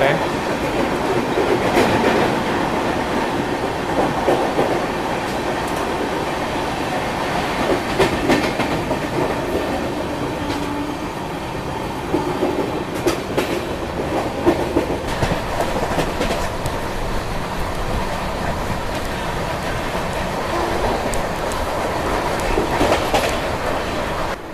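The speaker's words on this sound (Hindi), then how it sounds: "और ये ओवरटेक हो रहा है पटना लोकमान्य तिलक एक्सप्रेस का, जो कि बिल्कुल पैरेलल में हो रहा है।" Indian express train racing at speed while overtaking the Patna–Lokmanttilak Tilak Express on a parallel track, a steady loud rumble with rhythmic clickety-clack of wheels over rail joints and faint wheel squeal throughout.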